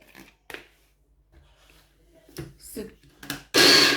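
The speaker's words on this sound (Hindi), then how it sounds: "हमने इसको मुस्तकिल और ज़्यादा देर पीसना नहीं है, सिर्फ दरदरा करना है" Someone talks, then an electric grinder whirs in one short, loud pulse as soaked lentils are ground coarsely for dal kachori.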